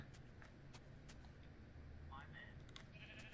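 Sheep bleat a few times at moderate distance in the video game Minecraft over a steady low hum, with people talking throughout and brief sharp clicks scattered in.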